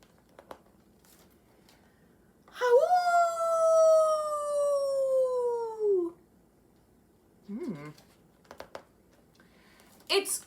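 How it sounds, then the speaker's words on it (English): A dog, named Stanley, lets out one long, drawn-out howl at the moon that slides slowly downward. A few soft rustles and short sounds follow in the quiet afterward. "He's howling at the moon."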